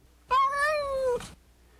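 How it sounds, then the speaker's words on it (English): A cat lets out a single drawn-out meow, clear and close, with a falling tonal pitch and a brief breathy tail at the end, against a quiet background. "using Dick's loved rat-chasing cat and companion, Puss."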